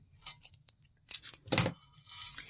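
Several crisp scissor snips through a paper strip in quick bursts, close by, with short pauses between cuts and a longer rustling slide at the end.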